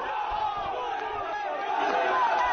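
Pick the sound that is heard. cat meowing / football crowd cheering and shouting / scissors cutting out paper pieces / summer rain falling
football crowd cheering and shouting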